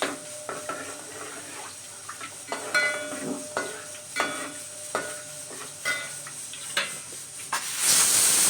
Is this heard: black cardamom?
yes